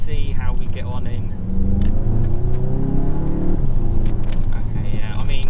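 A VW Golf MK8 GTI Clubsport in sport mode drones with a steady engine note from inside the cabin, rising in pitch as it accelerates. Someone talks over the sound.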